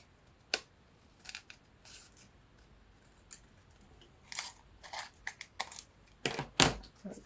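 Scissors snip down a 12x12 patterned paper sheet while making journal ephemera, giving a few short, crisp cuts that start sparse and bunch together toward the end, close and fairly quiet.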